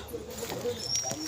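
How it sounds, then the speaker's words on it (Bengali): Birds calling outdoors near a flowering tree, a few short chirps and coos scattered over about a second, faint and mid-distance against light background noise. "কত সুন্দর পাখি ডাকছে, দেখছো?"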